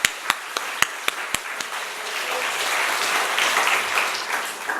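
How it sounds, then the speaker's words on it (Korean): Congregation clapping at a Korean Friday night church service: a few sharp claps at the start, then a sustained wash of applause from the crowd. "박수로 하나 할게요"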